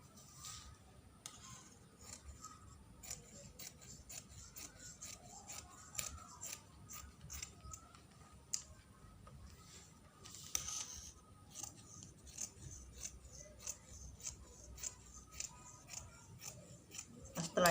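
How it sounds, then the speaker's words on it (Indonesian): Scissors snipping through fabric for a syar'i hijab pattern, steady repeated close cuts in a quiet room with no talking. "Nah sekarang kita motong lapis baju depan dan lapis baju"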